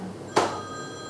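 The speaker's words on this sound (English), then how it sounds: "We've got a phone call." A telephone rings during a lecture on Islam: one brief, bright ring burst with a faint ringing tone behind it, moderately loud, with no talk.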